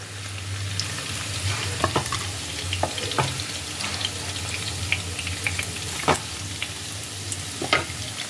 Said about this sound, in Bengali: পনিরগুলো ভালোভাবে ফ্রাই করা হয়ে গেছে। এবার আমি পনিরগুলোকে তেল থেকে তুলে নিচ্ছি।